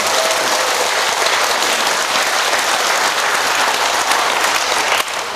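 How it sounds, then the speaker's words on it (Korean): Dense, sustained applause fills a lecture hall at a laughter-yoga health talk during an integrative medicine expo in Jangheung, a continuous wash of many hands clapping at full volume with a slight dip near the end. "우리 모두에게 행복의 박수 한번 쳐주시죠."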